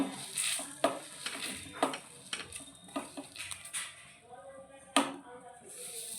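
Cumin and coriander seeds are dry-roasted in an empty wok, with scattered scraping and tapping strokes of stirring over a faint background.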